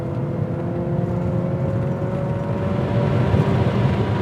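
A Porsche 944 Turbo climbs a hill under hard throttle, its engine heard from inside with a steady rising whir and drone that builds slightly toward the end, with no talk over it.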